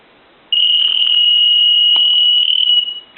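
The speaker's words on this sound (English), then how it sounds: "the design of this piezo buzzer, the ring circuit, was just way out of proportion for a telephone ring" After a brief quiet moment, a piezo phone buzzer starts ringing with a piercing, steady high tone, loud and continuous, then sputters out near the end.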